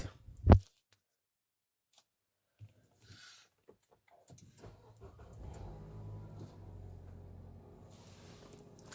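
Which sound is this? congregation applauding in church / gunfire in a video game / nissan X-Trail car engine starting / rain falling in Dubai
nissan X-Trail car engine starting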